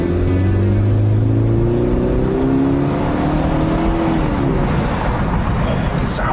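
Engine of a 2005 Subaru Outback 2.5XT wagon revving up and holding, a loud steady drone with rising pitch that fills the cabin, no talking over it.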